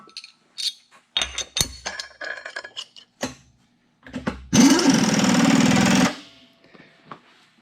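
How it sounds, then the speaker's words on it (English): A drill boring bolt holes into metal for a nurse tank build, heard as a loud, steady whining grind for about a second and a half after scattered clanks and handling knocks. "we'll drill the rest of the bolt pattern off of that hole"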